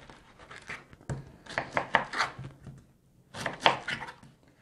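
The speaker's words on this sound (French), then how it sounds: "On va continuer à couper le restant." A knife chops produce on a cutting board, cut into pieces small enough for a juice extractor, in two bursts of quick, close, fairly quiet strikes with a short pause between them.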